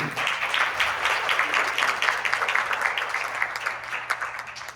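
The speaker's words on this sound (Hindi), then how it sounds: "रुता देसाई के लिए एक तालियां।" An audience at an amateur theatre drama competition claps to welcome a judge, a moderate, somewhat distant patter of many hands that rises and falls slightly over a few seconds.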